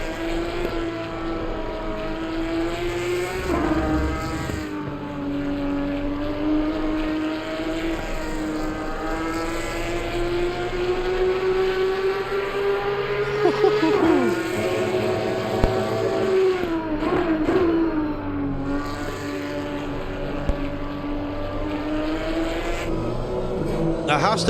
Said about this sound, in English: That has to be one of the best sounding engines in the game.